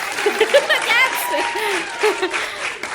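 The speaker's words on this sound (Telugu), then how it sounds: "ఒక్కడే చప్పట్లు కొడతారా? చప్పట్లు కొట్టావు." Children clapping at home during a summer-holiday pani puri challenge game, brief uneven claps mixed with giggling and lively chatter from the kids, close and fairly loud.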